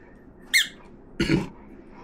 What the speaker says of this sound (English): And then we're going to squeak the ball.